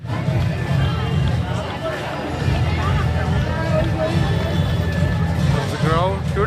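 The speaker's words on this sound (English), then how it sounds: "Today the crowd has increased because Monday it is." A festival crowd mills around a Navratri pandal in Kolkata, a close, steady babble of many voices mixed with nearby chatter and occasional passing vehicle rumble.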